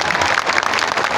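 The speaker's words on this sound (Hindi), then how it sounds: "बजाइए जोर से ताली" A large crowd claps loudly and continuously at a political rally for the Jan Suraaj party's launch on Gandhi Jayanti, a thick, close wash of applause with faint crowd noise mixed in.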